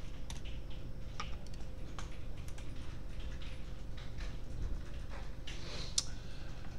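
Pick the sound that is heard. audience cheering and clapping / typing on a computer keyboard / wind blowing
typing on a computer keyboard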